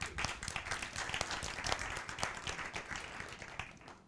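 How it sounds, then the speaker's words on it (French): A group claps and applauds together, a dense crackle of many hands that stays steady from start to finish and is heard at a moderate distance. "je crois qu'on peut commencer par s'applaudir tous très fort"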